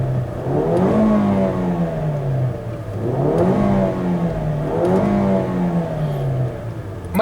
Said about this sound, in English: Go ahead and give it a few revs from the inside.